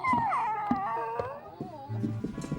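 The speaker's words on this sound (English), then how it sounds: "Oh, bad dogs." Several cartoon dogs in the animated series Bob and Margaret howl and whine together in wavering, overlapping tones, fairly close, with a few yips mixed in.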